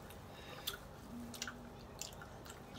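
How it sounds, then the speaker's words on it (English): Someone chews food close up, with a few soft, wet, squishy bites and smacks spaced across a quiet background. "You gotta try to chew it"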